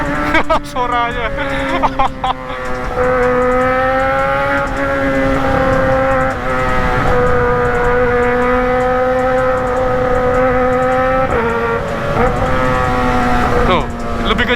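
Two Kawasaki ZX motorcycles rev their exhausts at length, a loud, sustained, rising and falling engine whine close by, with people talking over it.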